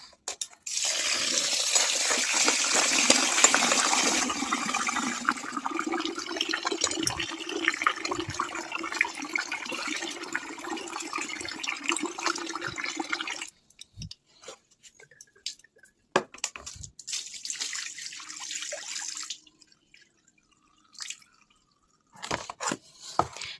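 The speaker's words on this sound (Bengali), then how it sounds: "এই যে চালটাকে ভালো করে ধুয়ে নেব।" Rice is washed in a pot: water pours and splashes loudly at first, then grains swish and a metal pot clinks before a pause, followed by more quieter rinsing and dripping.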